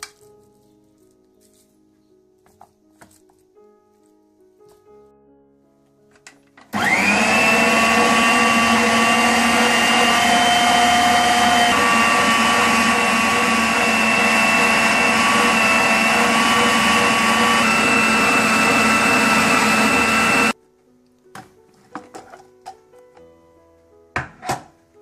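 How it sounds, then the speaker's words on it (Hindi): An electric blender grinds minced meat with a spice mixture for tandoori seekh kebabs, a loud steady motor whir running continuously for about fourteen seconds, with faint kitchen clinks before and after. "फिर इसी मिक्सचर में आप कीमे को डालकर कीमा भी पीस लें।"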